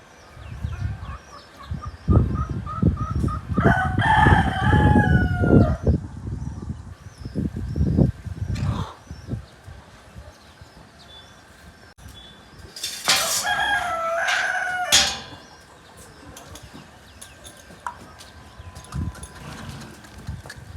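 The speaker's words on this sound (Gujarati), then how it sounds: "આ જો તમે કબૂતરા ને કુકડા છે." Roosters crow twice in loud, drawn-out bursts at a Marwari horse stable, with pigeons kept nearby. Between the crows come the clatter of hooves and steady background noise.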